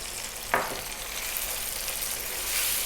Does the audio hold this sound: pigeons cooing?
no